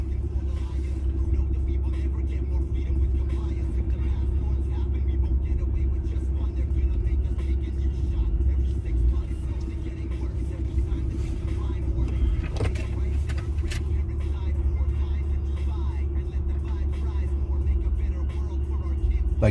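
A vehicle backs slowly into a trailer, its engine a steady low rumble at close range throughout, with no clear revving.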